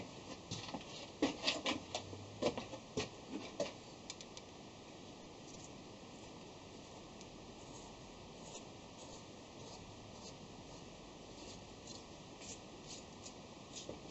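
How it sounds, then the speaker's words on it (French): A brush scrubs a freshly threaded metal part on a lathe, a cluster of quick, dry bristle strokes early on, then faint background hum. "Donc je brosse un petit coup."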